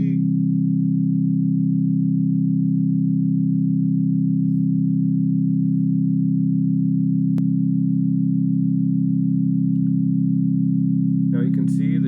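A sustained barbershop-style chord held steady with G sung in the lead part below the tenor and baritone, one long unbroken tone lasting the whole stretch, loud and alone.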